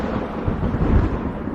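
Thunder rumbles low and heavy as the weather suddenly turns stormy before rain, a continuous deep rolling roar that swells midway, with no voices over it.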